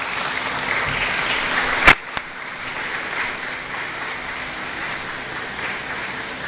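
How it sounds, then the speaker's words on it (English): Steady, moderately distant applause from an audience at a scientific gathering, with one sharp louder burst early on before the clapping settles into an even wash. "please, a round of applause"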